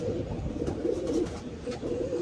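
Tournament pigeons coo steadily in low, rolling, overlapping calls, close and moderately loud, with no one speaking.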